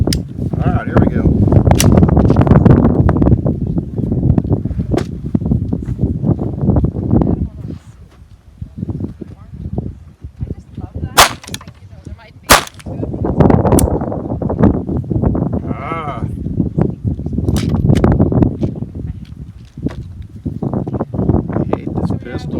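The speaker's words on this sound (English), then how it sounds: "We're going to see how many times it misfires now that it's all clean and oiled." Calico M100 pistol firing at a target after cleaning and oiling, a series of sharp gunshots spread irregularly through a loud outdoor scene with talking voices over much of it.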